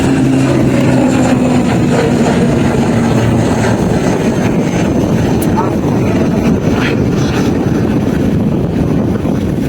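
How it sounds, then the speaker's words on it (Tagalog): A helicopter flies at an airport in the Philippines, its loud, close rotor and engine roar steady throughout with wind buffeting the microphone, while people talk over it. "Ay, sis. Helicopter."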